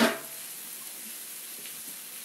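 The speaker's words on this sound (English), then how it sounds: "We're going to let those sizzle for a while." Top round steak sizzles in a pan with a steady, even hiss after a brief louder clatter at the start, heard alone at moderate level.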